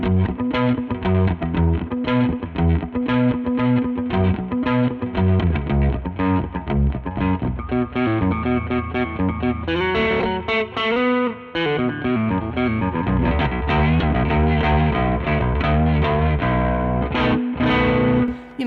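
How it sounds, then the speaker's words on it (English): Baritone guitar played through an Overdrive Plus pedal, a continuous driven riff with chugging low notes and sustained chords, loud and dense for the whole stretch with no talking. "Go ahead and get this Overdrive Plus going."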